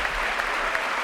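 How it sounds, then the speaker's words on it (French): Studio audience applause on a French television show, a brief steady burst of clapping without voices. "Je voudrais que vous applaudissiez Nicole Villotto, mesdames, messieurs"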